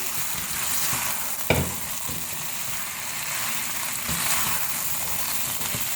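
Mince and potatoes frying on a medium flame with whole spices, a dense continuous sizzle with a single sharp utensil knock and occasional stirring scrapes, close and steady throughout.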